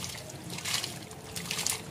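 Rainwater trickling and splashing steadily onto the soil of a potted Peace Lily, a soft continuous pour with slight surges, close by and without voices.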